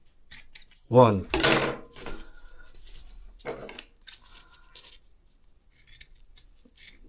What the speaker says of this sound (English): we precisely cut, not too much, just gently trim the very tip.